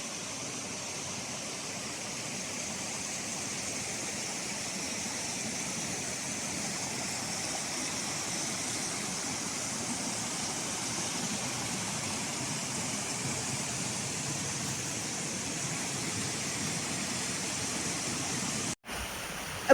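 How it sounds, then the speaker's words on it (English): River water flows steadily with a continuous broadband rush, moderately near and unbroken for the whole stretch, no voices or other sounds standing out, before cutting off abruptly near the end. "you have the river sounds, the flowing water"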